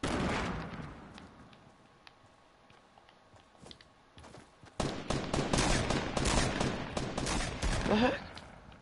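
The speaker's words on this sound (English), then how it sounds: "Where was I getting shot from?" Fortnite video game gunfire starts as faint, scattered shots and swells into sustained, loud rapid volleys in the second half, with crackling bursts dense and close.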